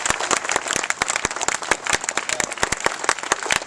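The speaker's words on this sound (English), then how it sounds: "Give Congressman Corn another round of applause" An audience at the Overton Park Bicycle Arch grand opening in Memphis applauds a congressman, dense continuous clapping from many people, close and lively for a few seconds.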